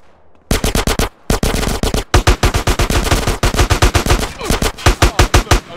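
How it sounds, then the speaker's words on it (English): Automatic gunfire from GTA San Andreas rattles out in loud, rapid bursts, separated by short pauses, close and dominant throughout. "A gun!"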